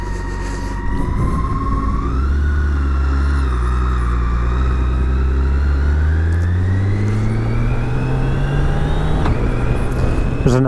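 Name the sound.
BMW K1600GT motorcycle engine accelerating and upshifting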